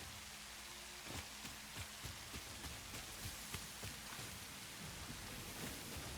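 Light rain falling in the video game Satisfactory, a steady soft hiss with scattered drop taps, faint and even throughout with no talk.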